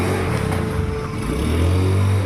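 A repaired Honda motorcycle engine after a diaphragm fix, running steadily at idle with a low continuous hum and a slight rise in pitch toward the end, close and alone.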